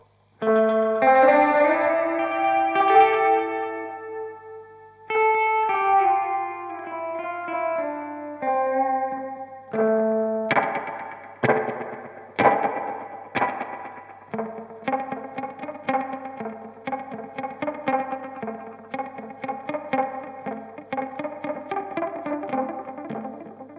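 Electric guitar notes and chords drenched in repeating tape echo delay and washy reverb, sustained and swirling, played alone at moderate volume.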